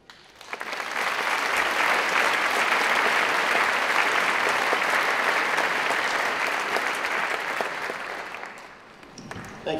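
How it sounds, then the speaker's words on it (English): A large commencement audience in a concert hall breaks into loud, sustained applause, a dense, steady wash of clapping that swells quickly, holds for several seconds and then tapers near the end. "to get applause on the stage of Severance Hall"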